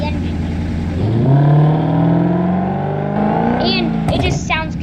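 A car engine in BeamNG.drive revs up to a loud, rising howl, holds, then eases back down, with a few short sharp chirps near the end.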